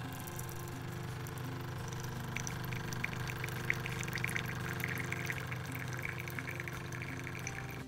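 A De'Longhi La Specialista Maestro espresso machine dispenses hot water with a steady pump hum and a continuous trickle of water running into a cup, moderately quiet and without speech.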